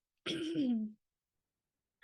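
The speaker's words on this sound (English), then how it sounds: "I'm clearing my throat so much" One short, close throat clearing, a rough guttural rasp lasting under a second, followed by silence.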